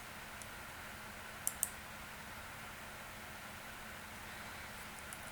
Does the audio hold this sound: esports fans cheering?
no